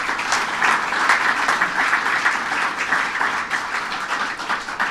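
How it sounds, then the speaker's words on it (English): A crowd applauding at a legislation-signing event for the LaGuardia AirTrain project: loud, dense, sustained clapping from many hands, steady for five seconds with no voices over it. "Let's give him a big round of applause."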